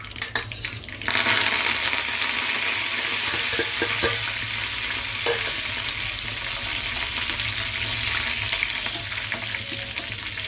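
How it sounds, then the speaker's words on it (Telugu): Mustard seeds, three dried red chillies and curry leaves hit hot oil for a tempering for an ivy gourd chutney, bursting into a loud, dense sizzle after a second that holds steady with faint stirring scrapes. "తాలింపు గింజలు కూడా వేగుతుంది కదా"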